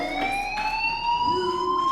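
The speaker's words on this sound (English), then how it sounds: "do you hear that fire alarm?" A steady electronic fire alarm in the video game Life is Strange wails in rising and falling tones, loud and continuous, with no voices over it.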